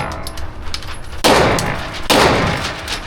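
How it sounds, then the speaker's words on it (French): Two sharp, loud firearm gunshots at a shooting range in the USA, about a second apart, each a broadband crack with a short decaying tail over a low background hum. "Ça y est, on a tiré."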